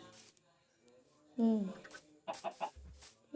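Baby chick clucking in the Minecraft video game, with a few short, bright chirping bursts over quieter background sounds and a voice talking nearby.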